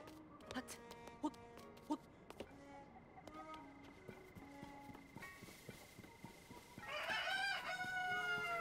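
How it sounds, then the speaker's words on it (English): In Zelda: Tears of the Kingdom, a game chicken clucks and crows near the end over a backdrop of rhythmic clip-clop steps and sparse clicking effects. A voice speaks faintly at times. "Chicken."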